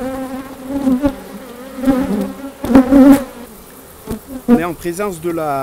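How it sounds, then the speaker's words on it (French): Bee swarm buzzing at a beehive in an apiary, a steady droning hum of many insects close by, with someone talking over it throughout. "Alors que ça, c'est un essaim"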